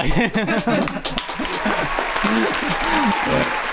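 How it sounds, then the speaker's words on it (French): A small group gives a burst of hand clapping in a casual podcast setting while people keep talking and chuckling over it. "On a notre trademark, les applaudissements."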